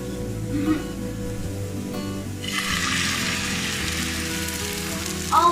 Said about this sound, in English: Oh wow, that is very sizzly.